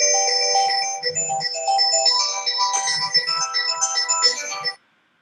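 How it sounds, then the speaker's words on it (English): Melodic electronic phone ringtone for an incoming call, a bright repeating tune played loud and close for about five seconds, then cutting off abruptly into silence. "He's just gotten the phone call"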